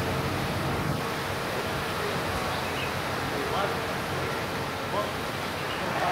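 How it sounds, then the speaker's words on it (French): Strong wind roaring across the microphone in a constant, dense rush of noise with no breaks. "Attendez, il y a beaucoup de vent, il y a beaucoup de bruit ici."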